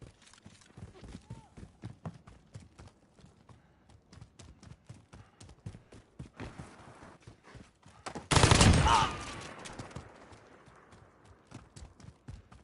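Gunfire in the video game Call of Duty: Modern Warfare comes as rapid sharp shot bursts throughout, with one loud sustained blast near the end.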